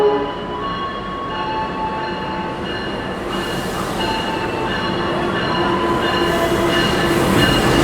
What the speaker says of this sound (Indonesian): ini dia kereta api Cikuray mulai masuk stasiun Kiara Condong